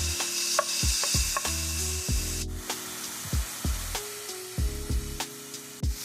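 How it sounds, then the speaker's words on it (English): Chopped onion sautéing in hot olive oil for goulash, giving a steady close sizzle with occasional soft knocks of a utensil against the pan. "Now I'm going to add in my onion, and I'm going to saute that for 2 minutes."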